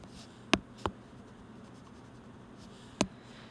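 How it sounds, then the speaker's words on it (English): A few short squeaky swipes of an eraser across a classroom board, three brief strokes spaced apart over a quiet room hum. "All right, so let's erase this."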